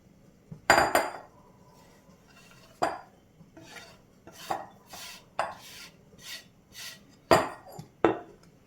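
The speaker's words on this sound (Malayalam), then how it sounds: "ക്യാബേജ് അരിഞ്ഞിട്ടുണ്ട് ഇത് നമുക്കൊരു ബൗളിലേക്ക് മാറ്റാം" Chopped cabbage scraped and moved into a bowl, with a string of close clinks, knocks and scrapes of utensils against the dish at an irregular rhythm, some sharp and loud, others softer, and no talking.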